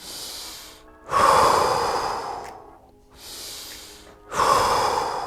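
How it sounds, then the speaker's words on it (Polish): Slow, deep breathing during a chest and shoulder stretching exercise with a stick: two long, close inhales, each followed by a softer, gradual exhale, with near-silent pauses between. "głęboko oddychasz"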